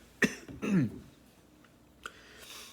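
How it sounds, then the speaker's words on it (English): A sharp cough, then a rough throat-clearing rasp, and a smaller cough a moment later, close up in a quiet room. "I'm about to cough and choke"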